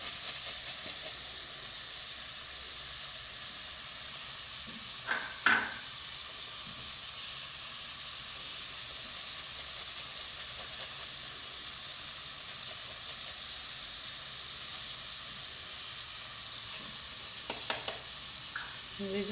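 Chicken frying in butter with garlic in a pan, a steady, close bright sizzle throughout, with a few brief clinks and stirring scrapes.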